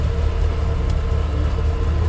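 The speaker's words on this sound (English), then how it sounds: "But that thing sounds unreal." A supercharged 1964 Pontiac GTO idles nearby with a deep, steady rumble and slight lope, loud and alone for a brief moment.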